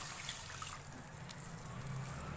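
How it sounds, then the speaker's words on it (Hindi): Water poured into a cooking pot of daal with salt, a steady soft trickling wash over low kitchen rumble, continuous and fairly faint throughout. "1 कप पानी ऐड करेंगे।"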